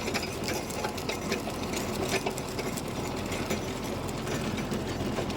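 A Mahindra Yuvo 585 50 HP tractor drives a rotavator through a tapioca field, giving a steady, close mechanical rattle and drone that holds evenly throughout with no voices.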